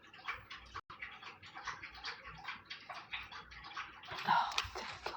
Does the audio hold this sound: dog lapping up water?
yes